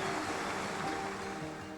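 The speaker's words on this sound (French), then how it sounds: "Un ruisseau fraye son chemin en créant des cascades." A forest stream cascading over small falls, a steady broadband rush of flowing water, loud and close, continuous with no other sounds.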